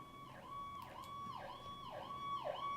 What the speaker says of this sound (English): I got a siren walking past my thing right now.